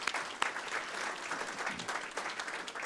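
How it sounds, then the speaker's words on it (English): Applause at a city council meeting in chambers, a moderate crowd of hands clapping steadily, fairly soft and distant in tone, with a few sharper claps standing out. "He deserves a round of applause for being so good to this city."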